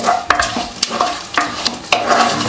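Fenugreek seeds and two dried red chillies fry in hot tempering oil for a Tamil kitchen dish, a loud close sizzle with quick repeated scrapes and taps of a spoon stirring the pan, no voices.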